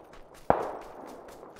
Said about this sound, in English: now I'm hearing gunshots forward that direction now